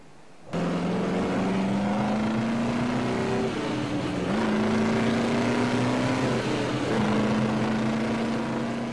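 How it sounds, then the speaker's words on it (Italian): A vintage car's loud engine on winding hill roads in the Colli Bolognesi, with a strong, steady drone whose pitch climbs and dips as it changes gear, running continuously close by. "Gli assordanti motori di auto d'epoca invadono le sinuose strade della collina."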